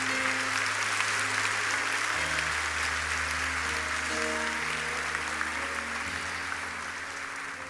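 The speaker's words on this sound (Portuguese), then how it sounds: "Se é para Jesus, você pode aplaudir." A church congregation applauding, a loud, sustained round of clapping with a low musical tone holding underneath before it slowly eases off.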